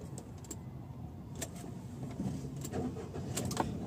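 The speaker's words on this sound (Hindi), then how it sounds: "अब हम गाड़ी को स्टार्ट करेंगे" A Maruti Suzuki Celerio, which has a power steering fault, is started from inside the cabin: faint clicks, then a low engine churn builds into a steady, quiet idle.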